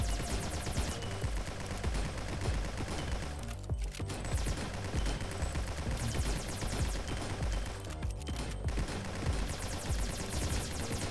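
Shotguns blasting in the video game Nimrods: nonstop, loud overlapping gunfire with rapid repeated shots from several weapons at once, nearly unbroken, pausing only for a moment twice.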